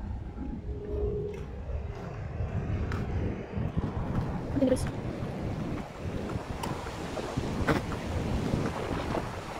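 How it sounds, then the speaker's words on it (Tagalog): Strong wind roars and buffets the microphone continuously, a steady gusty rush with no pauses. "Oh, ang hangin!"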